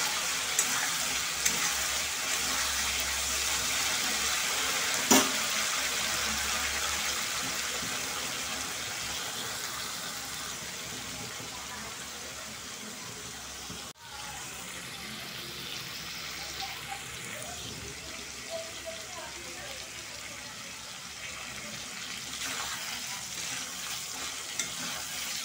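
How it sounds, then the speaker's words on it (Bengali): Potatoes and spices for Dhokar Dalna sauté in a pan over low heat, giving a soft, steady sizzle with occasional stirring scrapes and a faint clink, quiet and continuous with no talking. "আঁচটা কমিয়ে নিয়ে 3-4 মিনিট মতো কষাতে দেবো,"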